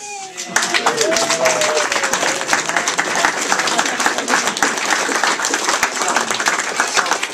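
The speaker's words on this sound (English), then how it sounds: "So for Dr. Lin, we have the claps on tape." Applause played back from a tape recording at a university economics student awards ceremony: a crowd claps in a thick, continuous patter for several seconds at moderate loudness, with some voices mixed in.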